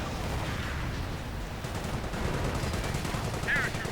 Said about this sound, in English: Always rockets, it seems, from Vexial.